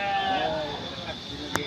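At a goat market, a goat lets out a wavering bleat near the start that fades within about half a second. A low background hum of people talking runs through the whole clip.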